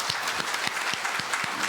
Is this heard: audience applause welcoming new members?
yes